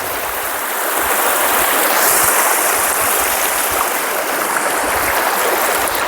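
A flowing stream in a tribal forest area, crossed over slippery rocks, rushes in a steady, fairly loud broadband wash close by, with no voices.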